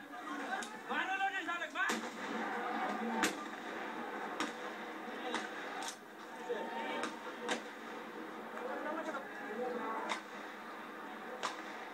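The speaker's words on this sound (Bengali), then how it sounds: "পুলিশ এখানেও টিয়ার সেল, রাবার বুলেট ও ফাঁকা গুলি ছোড়ে" Sharp bangs of police tear gas launchers, rubber bullets and blank gunfire ring out repeatedly at irregular intervals over a noisy protest crowd with shouting voices.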